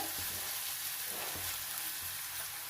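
Green chillies and coconut paste go into cabbage curry frying in a pan, producing a steady, dense sizzle with a few soft knocks from stirring.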